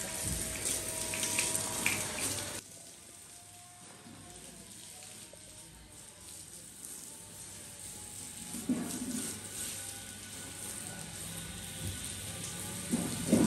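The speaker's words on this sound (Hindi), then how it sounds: "अब ऊपर पानी का छिड़काव किया जा रहा है ताकि ये बैठ जाए कि ये जम जाए।" Water is sprinkled over freshly laid construction work, a faint, rain-like patter and hiss that comes and goes in soft bursts.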